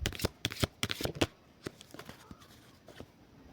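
Playing cards are shuffled for a tarot reading, with a quick burst of sharp riffling snaps followed by softer scattered card slides, close and alone.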